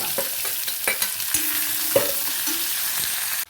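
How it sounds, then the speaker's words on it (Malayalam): Onions sizzle steadily in hot oil while a spoon stirs and scrapes the pan with a few sharp knocks. "അതിനുശേഷം നമുക്ക് ഉള്ളി ഇട്ട് വഴറ്റാം"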